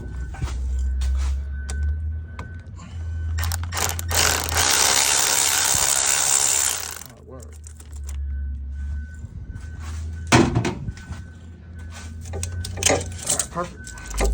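Loosening a tight clamp on a car transmission during a swap, with close mechanical ratcheting and rattling of a hand tool in a long grinding burst, plus scattered metallic clinks, under a low background hum.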